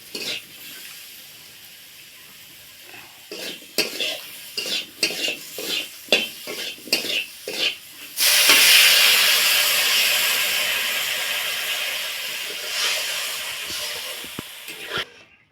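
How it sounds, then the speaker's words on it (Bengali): Spices with turmeric are stirred in a pan for a Bengali sour mango and small fish dish, a run of sharp spoon scrapes and clinks, then water pours in and a loud hiss settles into a steady sizzle. "সব মশলাগুলো দিয়ে একটু নেড়ে চেড়ে এবার এর মধ্যে দিয়ে দেবো জল"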